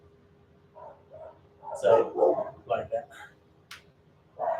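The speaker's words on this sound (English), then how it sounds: "There's a dog across the road going crazy." A dog barks repeatedly from across the road, a string of distant yappy barks and whines heard faintly behind a man's nearby speech.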